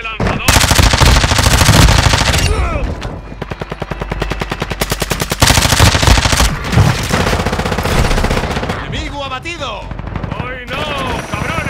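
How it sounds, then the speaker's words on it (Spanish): Enemy machine gun fire in Call of Duty Warzone: loud sustained automatic bursts in rapid rhythm, broken by short pauses, with whooshing effects and voices heard under the gunfire. "¡El enemigo ha lanzado un ataque de ametralladora!"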